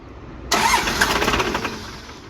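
A 12-valve Cummins diesel running on straight waste oil cranks briefly and then catches, settling into a loud, steady, rough idle close by with no one speaking.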